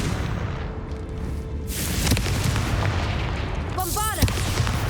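A Confringo fire spell in Hogwarts Legacy goes off as a rumbling blast over game ambience, with a sharper crack midway and a whooshing, sweeping burst near the end.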